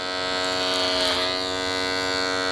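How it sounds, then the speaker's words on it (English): Electric hair clippers work clipper-over-comb during a pompadour haircut, giving a steady, close, continuous buzz that rises briefly in brightness midway as the blades meet hair. "So the lever's closed now while I'm doing this clipper over comb."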